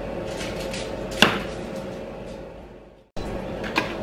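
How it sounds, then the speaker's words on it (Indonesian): A knife chops boiled chicken hearts into small pieces in a home kitchen, giving two sharp, close strikes a couple of seconds apart over a steady background hiss. "ini jantungnya udah aku rebus. Ini mau aku potong-potong kecil-kecil."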